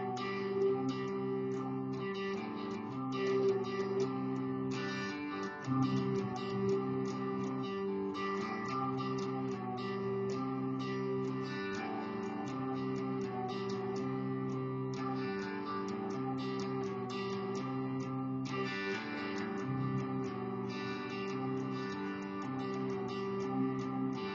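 Electric guitar strumming a riff in a steady, continuous pattern with ringing chords and a bright, slightly effected tone, played alone at a moderate, even level for the whole stretch.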